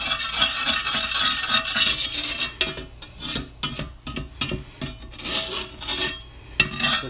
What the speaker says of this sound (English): I'm gonna get the same metal spatula and just kind of see if I can give it a rub